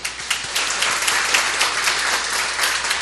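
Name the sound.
congregation applause welcoming new couple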